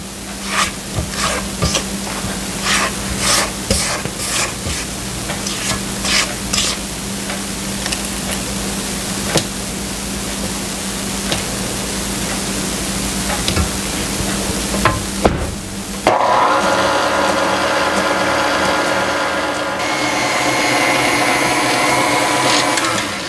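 Chocolate cake batter for a ten-layer cake is stirred and scraped down the sides of a mixing bowl, with rhythmic strokes at first, then a steadier, softer rasp of mixing near the end.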